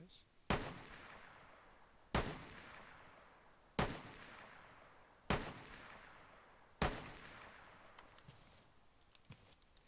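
A pistol fires in an Ubisoft video game, five evenly spaced sharp shots about one and a half seconds apart, each with a decaying echo tail, loud and close.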